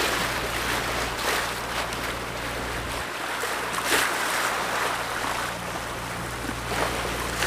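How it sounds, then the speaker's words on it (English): Waves wash onto a small beach just north of Governor's Harbor in the Bahamas, a steady broad rushing surf with a low rumble and no talking. "beautiful little beach over here just north of Governor's Harbor."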